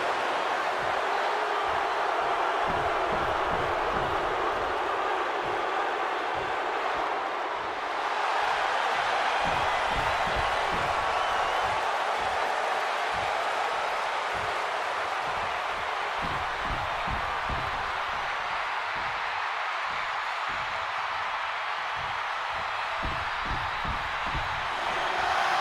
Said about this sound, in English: The people are singing.